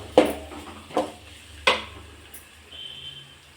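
Spices frying in a pan for egg rice give a soft low sizzle under three sharp, separate spatula clacks against the pan early on, then a quieter faint hiss, close by, no talking.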